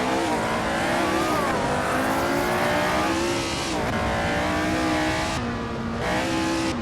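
1967 Tasman Series race cars at Pukekohe for the New Zealand Grand Prix in Assetto Corsa roar close up, their engines climbing in pitch again and again as they accelerate hard through the gears.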